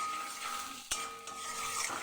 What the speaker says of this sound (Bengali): আমি এটাকে ভালো করে মশলার সাথে নাড়াতে হবে